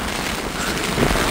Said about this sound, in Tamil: காற்று வந்து வேகமாக வீசிகிட்டு இருக்கு.